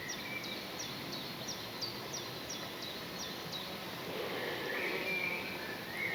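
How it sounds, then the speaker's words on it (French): Birds sing outdoors in a repeated series of short, high chirps through the first half, later joined by a softer warbling call over a steady background hiss. "On entend les oiseaux."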